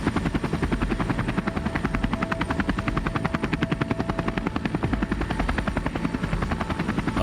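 A helicopter flies an hour from the coast out to the Sleipner North Sea oil platform, its rotor beating in a fast steady pulse under a constant engine whine, loud as heard from inside the cabin.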